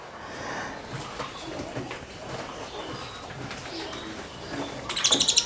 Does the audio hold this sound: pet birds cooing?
yes